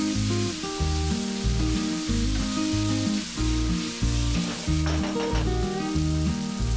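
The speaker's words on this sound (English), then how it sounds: "add the cooked beef and fry it for about 2 minutes" Cooked beef frying with onion, garlic and tomatoes sizzles loudly and continuously, with occasional stirring, under steady background music.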